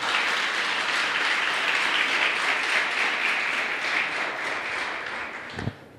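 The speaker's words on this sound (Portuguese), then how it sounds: "Você pode aplaudir o Senhor?" A church congregation applauding after a sermon, dense sustained clapping from many people filling the room, steady and fairly loud for several seconds before tapering off with a final thump.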